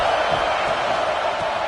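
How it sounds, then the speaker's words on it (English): A college football stadium crowd roars steadily in a dense, sustained wave of cheering as second down approaches near the goal line, loud and unbroken throughout. "and this crowd is turning it up a notch."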